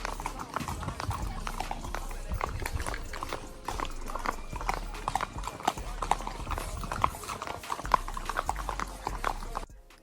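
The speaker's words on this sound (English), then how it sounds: "we decided to go horseback riding at the El Yunque Rainforest" Horse hooves clip-clop in a steady, continuous rhythm during a horseback ride through El Yunque rainforest in Puerto Rico, close and clear for the whole stretch with low background ambience.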